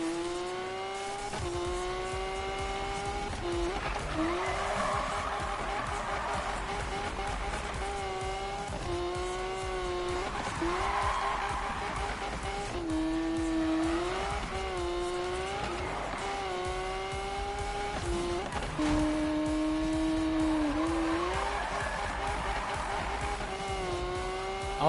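Car engine revving and wavering in a racing video game, with repeated tire squeals and skids over a continuous, steady engine drone and no talk.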